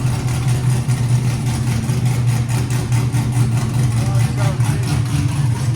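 A 2012 Chevy Caprice with a cammed 6.0L V8, open long-tube headers and an X-pipe idles loud and close, a deep, steady, lumpy rumble that stays unbroken throughout.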